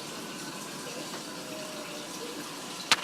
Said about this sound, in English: Now I'm putting a very small amount of water, about half an ounce, just a little bit of liquid because the veg are a bit dry.